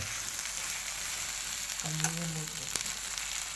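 Okra dry-fries in a pan with little or no oil, giving a soft continuous sizzle, with a brief scrape of stirring in the middle and a sharp tap near the end.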